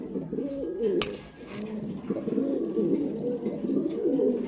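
King Lahori Mundi pigeons coo in a steady, rolling series of low throaty calls, close by and fairly loud, with a brief rustle near the start.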